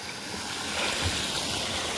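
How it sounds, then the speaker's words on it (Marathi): Irrigation water pours steadily into an earthen farm channel after a pump starts, a continuous close, even rushing wash with no speech. "तर भावानं पाणी चालू झाले"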